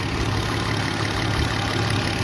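A Kia Carnival with its diesel engine swapped for a petrol engine idles steadily and evenly, a close, continuous low rumble with no break.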